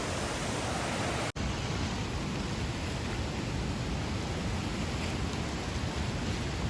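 Mangeli waterfall after rain, near Dodamarg, roars as a dense, steady wash of rushing water. The sound is continuous and even, with only a momentary dropout early on.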